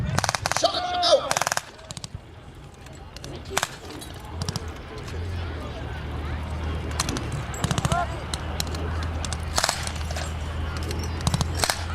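Infantry soldiers firing weapons during a Canadian Forces combined military exercise, with sharp, irregular bursts of shots over a steady low rumble of engines and background noise.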